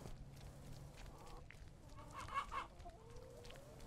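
A chicken clucks in the video game Gray Dawn, a few soft close clucks and a brief squawk over a low ambient hum.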